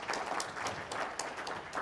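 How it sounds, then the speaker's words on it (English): An audience at a real estate convention panel applauds its panelists, with continuous moderate clapping and individual claps popping out, fairly close and steady throughout. "Round of applause for our panelists for those answers, please."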